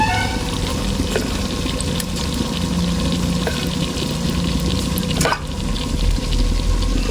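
Pieces of beef fry in a pan with no added water for a Kerala-style beef kala dish, making a dense, steady sizzle that stays loud and close throughout, with a few faint stirring scrapes and no voices.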